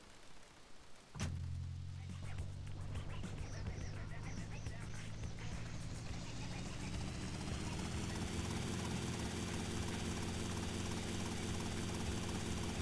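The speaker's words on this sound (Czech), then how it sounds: "Já si nejsem jistý, ale tenhle vrtulník myslím umí přistávat na vodě" A helicopter in the video game GTA: Vice City starts up with a sharp click and then roars steadily, its rotor throbbing and engine whining loud and close for many seconds while someone talks over it.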